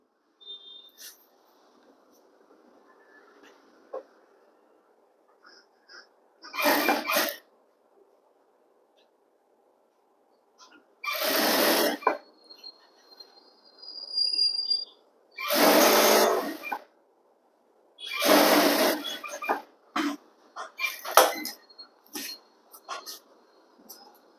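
A sewing machine stitches a folded hem on semi-Patiala pants fabric in four or five separate loud bursts, each a few seconds long, with quiet pauses and a person speaking between runs.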